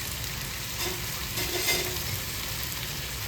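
Potatoes fry in a pan at a low, steady sizzle, with a couple of faint scraping stirs near the middle; quiet overall with no voices.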